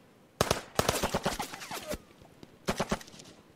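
Gunfire in the tactical wargame Lock 'n Load Tactical Digital, set in the Vietnam War with Viet Cong forces: sharp bursts of rapid machine-gun fire, then a pause and a second short volley, loud and close, with no speech.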